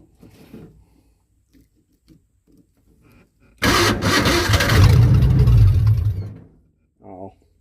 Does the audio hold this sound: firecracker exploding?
no